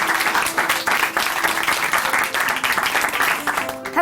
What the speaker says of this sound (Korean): 오늘 귀한 간증 들려주신 곽기순 자매님께 다시 한번 응원의 박수 보내드릴게요